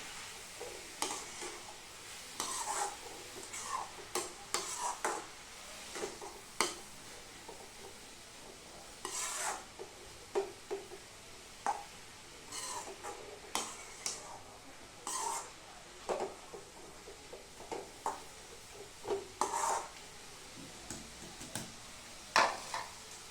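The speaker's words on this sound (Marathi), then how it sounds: "आता हे आपण गाजर किसून घेतलं आहे, ते चांगले परतून घेते मी" Grated carrot sautéing in homemade ghee for carrot halwa, with a soft sizzle under steady, repeated stirring and scraping in the pan, plus occasional sharper clinks of a utensil against the pot.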